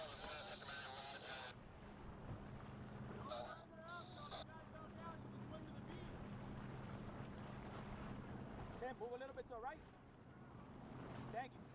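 Boat engine droning on open water in a video game, steady low hum with wind and wave noise throughout, while several people shout and talk over it.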